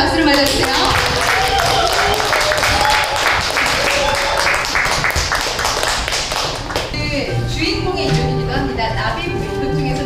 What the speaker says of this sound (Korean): 박수를 맞아주세요